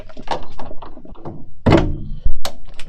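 A car door is worked open with a rod handle welded onto it, giving dull thunks and metallic knocks close by, with some low talk in the background.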